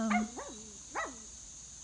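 A puppy yips and whines in short high rising cries, three or four close bursts with quiet gaps between.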